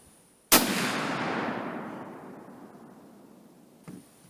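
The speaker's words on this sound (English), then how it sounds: "shoot it one more time for posterity's sake" A single very loud, close shot from an EDM Arms Windrunner .408 CheyTac rifle: one sharp blast and a long fading rumble, then a faint click near the end.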